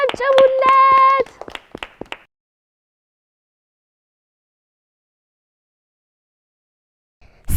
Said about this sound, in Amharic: ሞቅ ያለ ጭብጨባ ጨብጭቡለት